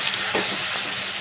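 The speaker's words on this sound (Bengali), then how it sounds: "আর ওই তেলের ভিতরেই আমি আরও কিছুটা তেল দিয়ে নিয়েছি। এখন আমি দিয়ে দেবো রসুন বাটা" Garlic paste frying in hot oil in a pan while cooking egg fried rice, a steady close sizzle throughout with a couple of brief stir or scrape accents.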